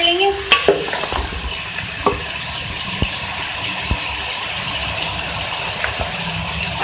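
Lauki (bottle gourd) and turai (ridge gourd) sabzi being stirred in a pan, with a steady low sizzle and scattered scrapes and clinks of the spoon against the pan, close up, no talking.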